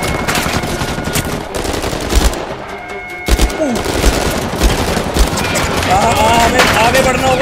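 Sustained machine gun fire in Uncharted 4, dense rattling bursts crackling loudly through most of the clip with brief lulls, mixed with heavy thuds and a voice speaking over it.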